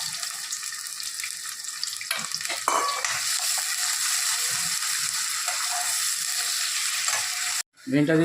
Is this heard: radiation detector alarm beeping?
no